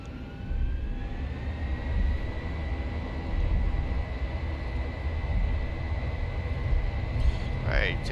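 Airliner jet engines in the X-Plane 11 flight simulator, an A320 or 737, spool up toward takeoff thrust with a steady roar and a rising whine that holds loud and even, and a voice speaks near the end.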